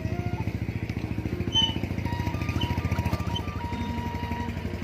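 A motorcycle engine putters with a rapid, regular chugging beat close by, steady and moderately loud, with faint background sounds above it.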